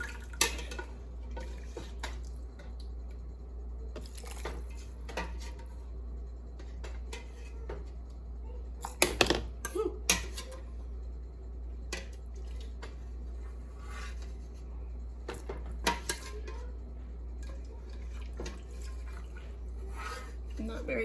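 A utensil scrapes and knocks against a metal pot as peas are scooped from chicken vegetable soup, giving sporadic clinks and scrapes, with one louder cluster midway, over a low steady hum and occasional speech.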